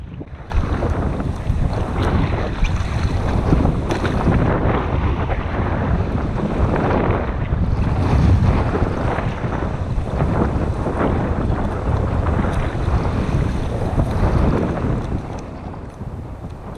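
Wind of about 15 knots buffets a sailing boat near a beach in waist-deep water, with loud gusting microphone rumble and sloshing water surging in waves throughout.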